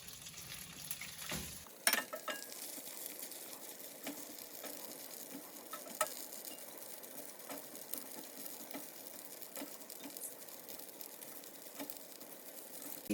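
Noodles frying in hot oil, a continuous close crackling sizzle with small pops and occasional stirring clicks, no talking.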